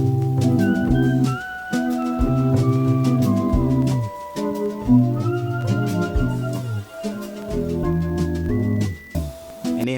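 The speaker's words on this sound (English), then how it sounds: "So on that auxiliary track, I put a flanger on there." A sampled music track with a flanger on an auxiliary channel sweeping in and out, sounding as loud, continuous layered music with sustained tones and brief dips, with no talking.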